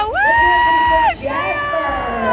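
A crowd cheers and whoops loudly for a novice dancer, with high, sustained shouts and whoops up close, then a brief dip before more cheering and voices.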